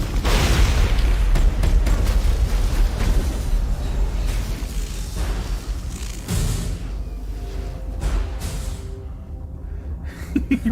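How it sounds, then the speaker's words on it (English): A grenade goes off in the Mass Effect video game, a loud, close boom followed by a long rumbling, crackling tail that slowly fades, with a few smaller pops near the end and no talking. "Grenade!"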